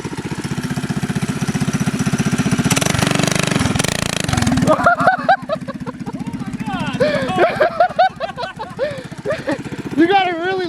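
DIY Doodle Bug minibike built from Amazon parts, its small engine running with a rapid popping chug that rises and fluctuates, while people talk and exclaim excitedly over it.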